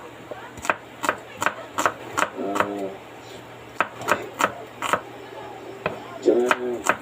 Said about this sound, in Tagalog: Hiwa tayo ng sibuyas.